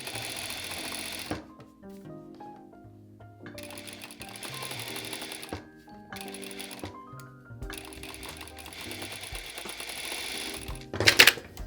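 Industrial sewing machine hemming fabric through a Wayken hem folder attachment, running in several steady whirring bursts separated by short pauses, close and clear with a final clattering rattle at the end.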